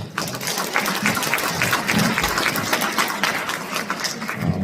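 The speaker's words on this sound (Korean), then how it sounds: "박수 한번 뿌리죠" An audience claps steadily at a 2025 Korean National Assembly member's legislative report meeting in Cheongwon-gu. The dense crowd applause sounds fairly close and continues without a break.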